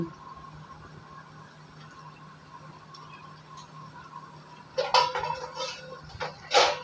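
Chicken roast cooking in a pot, quiet sizzle, then a metal lid clatters onto it in two sharp, close clanks near the end.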